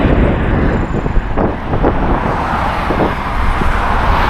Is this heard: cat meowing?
no